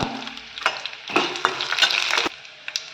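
Already-roasted peanuts are tossed lightly in a hot pan, giving a soft sizzle with scattered scraping and rattling stirs, close and without speech.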